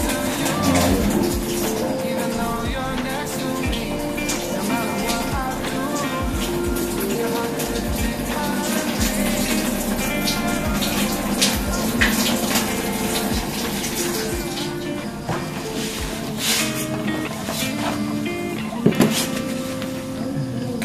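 Water runs steadily into a container to fill an electrolyte soak for a reptile, a continuous splashing rush for about twenty seconds with a knock or two and voices now and then.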